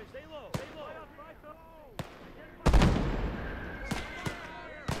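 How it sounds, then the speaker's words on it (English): Mortar and 10 centimeter artillery fire in a hedgerow combat video game lands as sharp, sudden blasts, one heavy rumbling impact among several lighter cracks, with bird chirps in the quiet gaps between them. "Dude, is the 10 centimeter artillery actually hitting from here"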